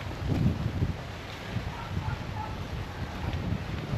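Monsoon wind gusting against the microphone by a lakeside boulevard, a fairly faint, steady rushing roar with low rumbling buffets that rise and fall.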